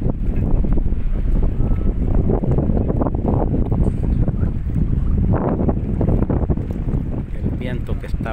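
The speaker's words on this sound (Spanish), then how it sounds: "El viento que está ahorita es muy agradable." Steady wind buffeting the microphone, loud and constant, with the low rumble of a moving motorboat beneath it.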